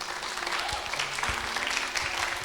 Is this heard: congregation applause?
yes